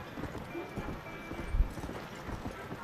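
Horse hooves clip-clop on the ground in the video game Red Dead Redemption, a steady rhythmic trot, soft and moderately near, with a few louder footfalls.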